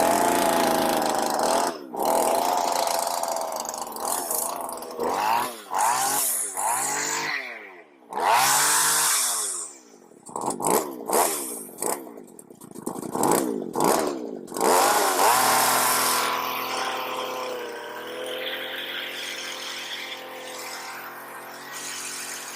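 A vintage Poulan 3400 chainsaw runs close and loud, revving repeatedly in sharp rising and falling bursts with brief drops, then settling into a steadier high idle.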